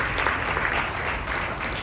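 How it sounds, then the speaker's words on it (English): Steady applause from a large audience at a formal business association annual session, dense and continuous clapping throughout at even loudness. "A big applause to that, sir,"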